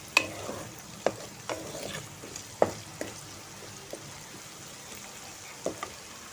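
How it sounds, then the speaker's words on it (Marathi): Chopped onion with a pinch of salt and sugar sizzles in tempering oil in a pan, browning as a spoon stirs it, giving soft scraping strokes and several sharp clinks over a steady hiss. "तर आता हा फोडणीचा कांदा थोडासा ब्राऊन व्हायला देते."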